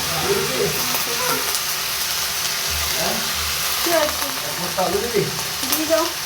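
Pointed gourd and chopped potato fry in a pan for vegetarian khichuri, with a loud, steady sizzle broken by scraping stirs. The sound is close and continuous.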